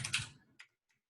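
A few quick keystrokes on a computer keyboard during a programming talk, close and brief, with a short burst of clicks followed by two isolated taps.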